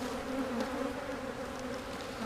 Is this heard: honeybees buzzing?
yes